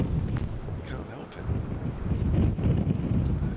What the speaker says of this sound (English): Still windy as Dawson bowls.